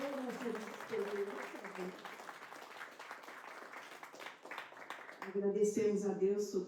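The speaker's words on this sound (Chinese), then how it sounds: "我们感谢他们，也要为他们鼓掌，把掌声献给神" A church congregation breaks into a few seconds of scattered, fairly quiet applause in the middle of a service, with someone speaking into a microphone just before and after.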